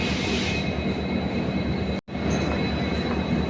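A steady, loud rumble of a train at Bathinda Junction railway station, broad and continuous, with a brief cut of silence near the middle.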